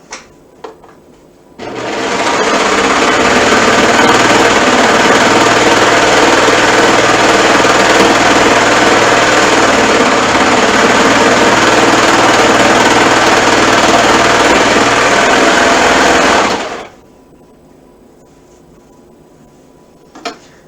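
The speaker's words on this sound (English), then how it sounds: "And now I'm going to stitch the next one." Sewing machine stitching along the curve of a hood, lining and outer fabric; a loud, steady mechanical whir runs continuously for about fifteen seconds with faint clicks before and after.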